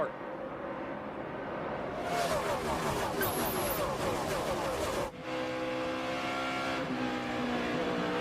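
NASCAR stock cars roar around the track at Atlanta during a crash, with engines surging loudly and steadily while a commentator talks over the racing.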